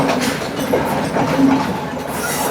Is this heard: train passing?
yes